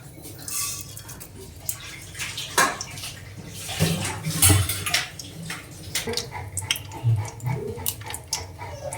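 Rapid crackling and popping of mustard seeds spluttering in hot coconut oil, with scattered sharper pops and a few metallic clinks of a pan.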